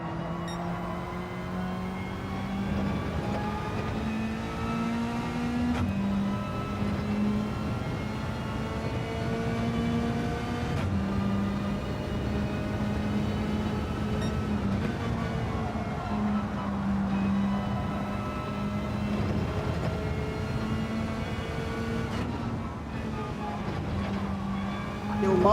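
A race car engine drones continuously through laps in Gran Turismo 7, a steady tonal whine with gear changes every few seconds, loud and constant, with a voice talking over it at times.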